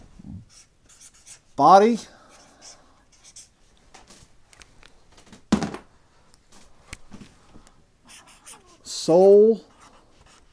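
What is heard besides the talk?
writing by hand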